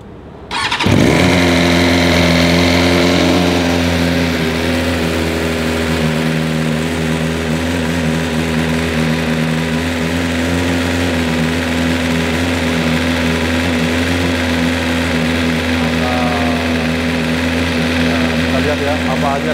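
A BMW M 1000 RR superbike engine fires up and runs, a loud close rumbling drone that settles into a steady idle with slight revving changes, with voices speaking over it.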